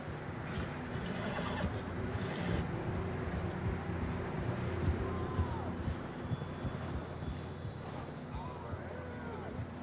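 Horses neigh and whinny in the Red Dead Redemption 2 game world, with a couple of brief calls rising above a dense, steady bed of wind, hooves and ambient noise. Voices talk over the scene throughout.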